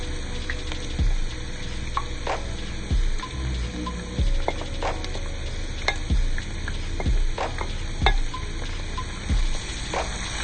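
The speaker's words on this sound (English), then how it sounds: "And saute it for a few minutes." Sautéing in a pan for Bihari ghugani, a kala chana curry, gives a steady sizzle with repeated rhythmic stirring strokes and scrapes of a spoon roughly once a second, close and moderately loud.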